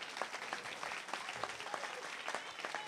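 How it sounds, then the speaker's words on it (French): Crowd applause and cheering for Jesus at a religious gathering in Niort, a steady wash of clapping with occasional louder claps and shouts, moderately distant, continuing throughout. "On acclame Jésus."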